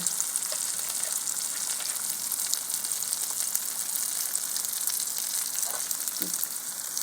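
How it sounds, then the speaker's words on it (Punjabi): Onion, tomato and green chili fry for a Punjabi kadhi, a soft continuous sizzle with faint occasional stirring, fairly quiet throughout. "ਗੰਡਾ ਟਮਾਟਰ ਹਰੀ ਮਿਰਚ ਭੁੱਜ ਗਏ"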